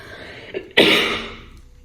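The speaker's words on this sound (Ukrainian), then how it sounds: "Господи, кашляю, чхаю." A person gives a single harsh throat-clearing cough, loud and close, after a brief small vocal sound and before a fading breathy tail.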